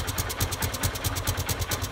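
A motorcycle engine idles with a rapid, steady pulsing thump, close and loud, with smoke and air coming from the cylinder area, and no talk over it.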